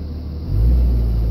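Third-generation Cummins diesel truck with a 48RE automatic in limp mode gives a brief, close, deep engine rumble that swells as it pulls away.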